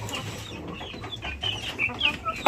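Free-range village hens cluck in a yard as one prepares to lay an egg, with a run of soft, irregular clucks and a sharper squawk at the end, heard fairly close against low background rumble.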